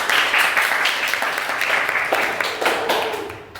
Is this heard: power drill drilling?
no